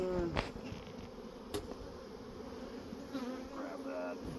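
Honey bees buzz around a hive being smoked, a steady close drone with individual bees passing near.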